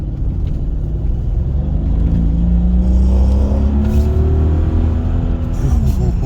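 A warmed-up Mercedes W210 E55 AMG engine revs, its deep rumble rising and falling in pitch over several seconds, loud and close, with voices talking faintly alongside.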